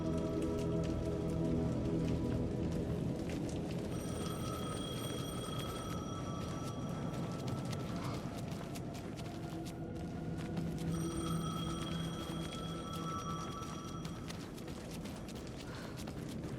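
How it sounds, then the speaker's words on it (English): Steady rain pours down in the Alan Wake II game world while a payphone rings in repeated bursts, two ringing spells a few seconds apart over the constant downpour. "The payphone was ringing. Somehow I knew the call was for me."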